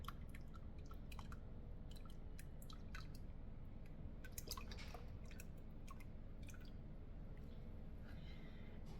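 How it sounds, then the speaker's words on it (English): Lye solution poured slowly down the side of a soap-making blender, a faint, steady wash of trickling liquid with scattered small drips and splashes throughout, no voices. "I'm going to pour it over the side of my blender so that it doesn't"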